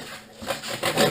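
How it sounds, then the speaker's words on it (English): A hacksaw blade cuts fiberglass inside an aircraft wing, giving a few short, raspy back-and-forth scraping strokes at close range. "I had to get in there and cut that too. Just a hacksaw blade"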